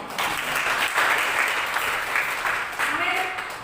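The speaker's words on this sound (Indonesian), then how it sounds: "Tepuk tangan buat Tuhan." A congregation claps together during a church sermon, a steady, fairly loud burst of many hands, with a voice faintly present beneath it.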